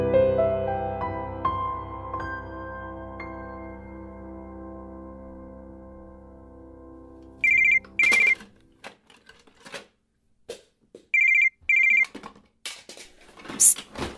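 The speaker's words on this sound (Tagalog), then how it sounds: "Ba't di mo sagutin niyang tumatawag?" A phone keeps ringing with an unanswered call, giving repeated short bursts of electronic ringing after a fading musical tone, with clicks and small sounds between the rings.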